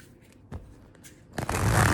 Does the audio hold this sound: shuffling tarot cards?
yes